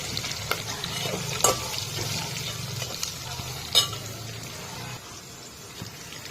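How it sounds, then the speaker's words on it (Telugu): Onions, green chillies and curry leaves hiss and sizzle steadily in a tempering, with a couple of sharp clinks from a utensil against the pan and soft stirring sounds underneath. "ఇలా తాలింపు అయ్యాక ముందుగా కట్ చేసుకున్న ఉల్లిపాయలు, పచ్చిమిర్చి, కరివేపాకు వేసుకోవాలి."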